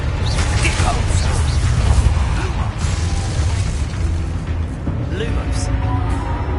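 Spell blasts in Hogwarts Legacy, the Depulso force spell among other cast effects, landing as repeated bursts and pops amid clattering combat noise and voices, loud and continuous.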